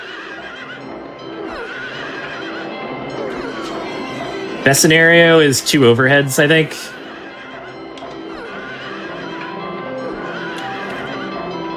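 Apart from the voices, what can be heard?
carousel horses neighing in the video game Silent Hill 3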